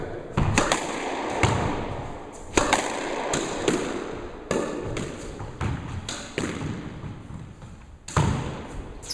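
A slightly head-heavy racket strikes a ball in test shots, about eight sharp, loud thwacks spaced a second or two apart, each with a short echoing decay, with no talking.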